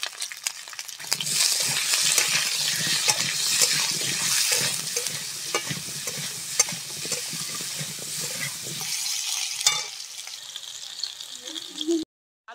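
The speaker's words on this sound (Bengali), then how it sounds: "তেলটাও গরম হয়ে গেছে, আলুটা এখন দিয়ে দেব" Potatoes with salt and turmeric sizzle loudly in hot oil with a continuous crackling hiss, stirred now and then, until the sound drops away near the end.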